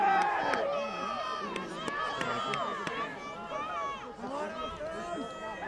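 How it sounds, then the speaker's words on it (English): Spectators at a Friday-night high school football game between Badger and Milton in Lake Geneva roar and shout for their defense, a swelling crowd noise running under a radio announcer's continuous play-by-play talk. "This Lake Geneva crowd is starting to get loud here"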